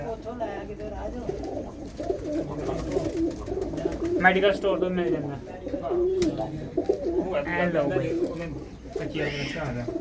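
Pigeons, adults and young in nest boxes, coo softly in repeated low throaty calls while someone talks nearby over them.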